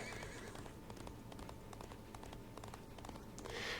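A horse summoned in the Disney Infinity video game, Lone Ranger setting: a steady run of clip-clopping hooves under game ambience, with a whinny rising near the end.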